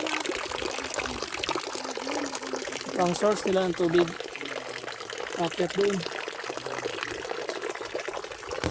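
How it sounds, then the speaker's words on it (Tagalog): Spring water flowing and splashing steadily inside a cave used as a family's water source, a constant rushing wash with people talking over it. "Ito yung source nila ng tubig."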